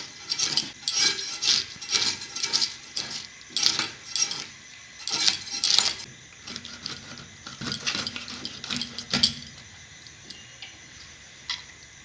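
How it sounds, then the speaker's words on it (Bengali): A small fish cut with a knife in a home kitchen: a steady run of sharp, close tapping and scraping strokes against a board, about one or two per second, fading and thinning toward the end. "মাছটা আমি কেটে নেবো"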